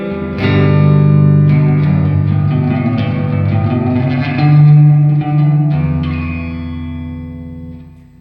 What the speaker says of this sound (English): so we can hear the reverb effect more